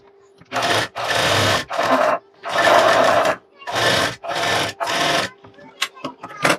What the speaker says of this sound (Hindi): फिर आपको अपने आर्म होल वाली टक्स की सिलाई लगानी है